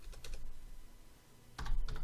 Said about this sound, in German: hier muss ich Spielstand reinschreiben